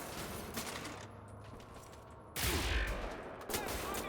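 Gunfire from a moon gun that is really an earth gun and can also shoot lasers, in the shooter Wolfenstein: The New Order: two loud, sharp bursts, the second shorter, cutting through steady in-game background noise.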